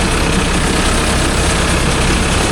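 Mahindra Arjun Novo 605 DI tractor engine running steadily at low speed, a loud, continuous diesel drone with a heavy low rumble and no breaks.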